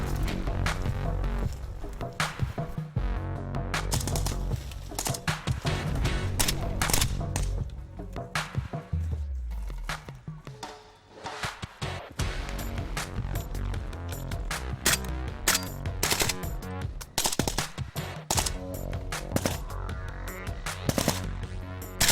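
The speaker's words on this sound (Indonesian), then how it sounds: "Siswa berlari menuju perbukitan sasaran sembari menembakkan senjata." Rapid gunfire from soldiers' weapons during a Kopaska naval special forces training exercise, with students charging toward hilltop targets. Dense cracks and bursts fire almost continuously and loudly, over a steady rumbling backdrop with no pause.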